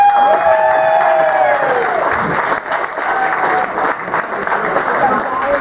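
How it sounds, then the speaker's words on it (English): Wedding guests applaud steadily and loudly after a best man's speech at a Scottish wedding reception, a dense wash of clapping with some voices mixed in throughout. "And another round of applause, please, ladies and gentlemen."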